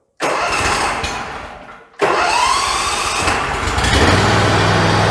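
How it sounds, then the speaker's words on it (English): A Ferris IS 600Z zero-turn riding mower's engine cranks and catches abruptly, sags briefly, then fires again and settles into a loud, steady close-up roar. "And then we can turn the key and it should fire up."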